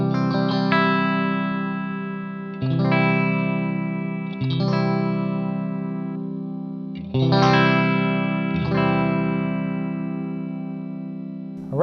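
An electric guitar run through distortion and chorus effects, picked with an orange abalone 1.6mm Hawk pick, rings out in several long sustained chords that decay slowly, loud and close, with no talking.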